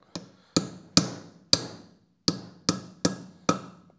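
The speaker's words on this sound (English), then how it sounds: "push it down, pull out your hammer of your choice." Eight sharp metallic hammer taps seating an engine valve seal, evenly spaced with brief pauses, close and crisp with quick ringing decay.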